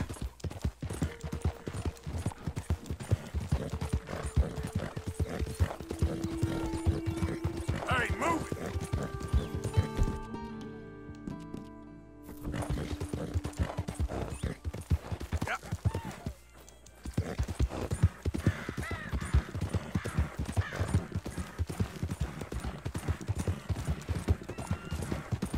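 Clip-clop of horse hooves in Red Dead Redemption 2, a steady trotting rhythm with a neigh partway through, joined by in-game music tones and a few brief gaps in the sound.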